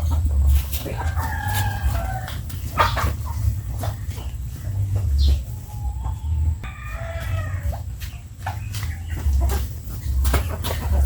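Chickens cluck steadily nearby while a rooster crows a couple of times, over a low rumbling background.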